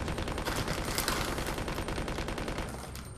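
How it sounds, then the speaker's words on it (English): Rapid, continuous gunfire and blasts aimed at zombies in the video game Resident Evil Code Veronica X, loud and dense throughout, easing off slightly at the end. "You blow up the zombies and they don't die."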